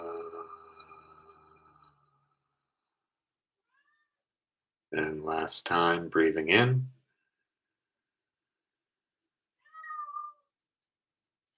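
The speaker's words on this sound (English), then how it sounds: "You might hear my housemate's cat meowing in the background," A housemate's cat meowing indoors, one clear, fairly close, drawn-out meow in the middle and a short fainter one later, between stretches of calm spoken guidance.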